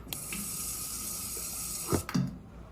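A running tap in a video game bathroom gives a steady hiss of water filling a sink, then cuts off near the end with a couple of brief knocks.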